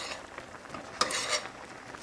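Chicken in a creamy mushroom sauce stirred in a pan, a soft sloshing and scraping with a light sizzle underneath and a few sharper utensil clicks against the pan, close and brief.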